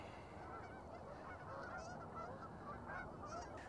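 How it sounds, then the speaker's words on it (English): Faint, distant honking of geese, several calls scattered over a steady low background rumble. "So here goes some flying geese."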